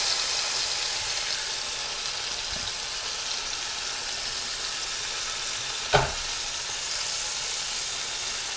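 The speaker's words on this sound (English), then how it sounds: "Get a heavy sear." Beef short ribs sear in a smoking-hot heavy pan, a loud, even hiss of frying holding steady throughout with one brief thump near the end.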